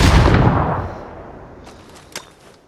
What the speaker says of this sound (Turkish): Bir bomba atacağım buraya.